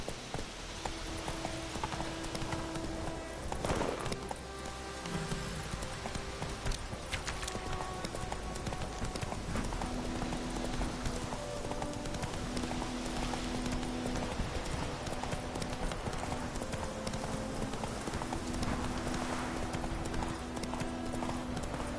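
Hooves of Roach, a horse in a video game, clip-clop steadily at a trotting pace, close and clear over an ambient game soundscape with a musical hum; a brief voice is heard at one point.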